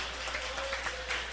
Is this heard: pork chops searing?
no